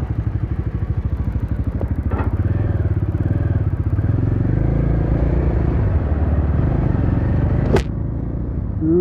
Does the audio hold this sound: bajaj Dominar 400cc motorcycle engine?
yes